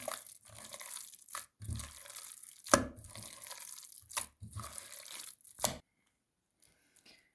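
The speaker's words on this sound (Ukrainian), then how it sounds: "і перемішую фарш. Фарш добре відбиваю." Minced meat is slapped and worked by hand in bursts of wet, thudding smacks with squelchy mixing between them, close up. The bursts come in an irregular rhythm and stop near the end.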